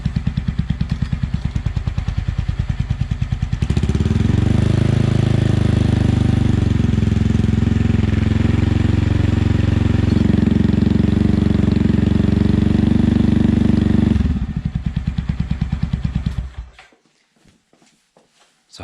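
A Benelli motorcycle fitted with an extra quiet exhaust baffle revs up loud and close, a steady droning engine roar that climbs and holds for about ten seconds before dropping back to idle and cutting off into silence.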